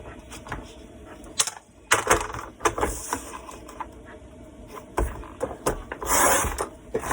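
Paper scraps being cut to 4 1/4 inches for a 6x8 album: a series of mechanical clacks, slides and crisp cutting strokes in irregular bursts, close and fairly loud.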